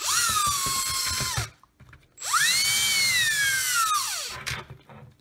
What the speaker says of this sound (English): I'm actually just gonna take this drill bit and just kind of ream it out a little